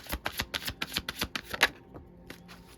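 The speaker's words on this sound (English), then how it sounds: "Let me shuffle one more time." Quick crisp riffling of tarot cards being shuffled by hand, a rapid run of sharp flicks that slows and ends in a few scattered taps, close and clear.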